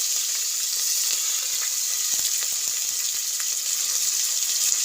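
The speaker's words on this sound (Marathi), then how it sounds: "कडीपत्ता कांदा छान आपण भाजून घेऊया व्यवस्थित" Curry leaves and onion frying in hot oil for a drumstick dal dish, a continuous bright sizzle with crackling pops, steady and close, with no talk.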